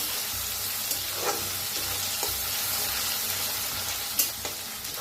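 A generous handful of curry leaves roasts in a pan for spicy Maharashtrian pithla, making a continuous hiss and sizzle with a few soft stirring scrapes, heard close up and without any talking.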